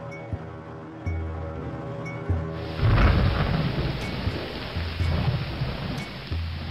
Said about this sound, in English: At the end of the day, the weather deteriorates into a storm. It rains as much outside as inside.